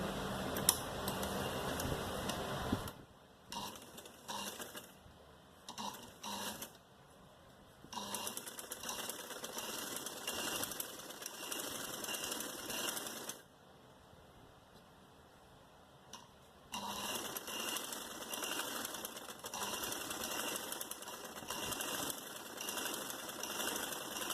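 A sewing machine stitches the sleeves of a long-sleeve party-wear garment in a steady rapid whir. It runs in bursts separated by quiet pauses and is heard close up with no talk.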